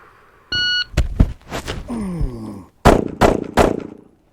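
Several sharp pistol shots fired one-handed with the support hand, loud and close: a short beep starts the string, then a quick handful of cracks with brief gaps between them, with some low clatter and ringing in between.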